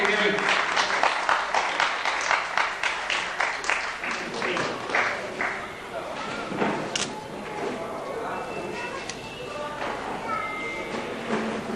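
Applause from a crowd rises in dense clapping, then gradually thins while a voice speaks over the fading claps.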